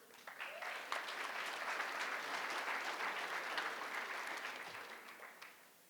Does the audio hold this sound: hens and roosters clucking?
no